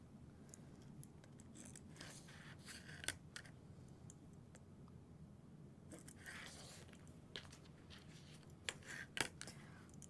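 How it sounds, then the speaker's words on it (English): Scissors snipping through fabric overlays for a handbag, a quiet close series of crisp irregular cuts and rustles with small pauses between strokes, with no voice over them. "And I'll cut my overlays."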